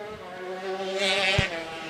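Open 125 shifter karts race around a track, with a high, buzzing engine whine rising in pitch as one passes, plus a brief mid-range thump, at moderate distance, with a faint voice underneath.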